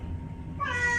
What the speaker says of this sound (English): But then he started meowing like that